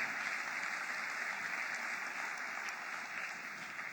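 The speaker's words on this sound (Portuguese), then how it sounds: "Aplauda mesmo" A church congregation applauds in a steady, even wash of clapping that sounds somewhat distant and softened, continuing without a break.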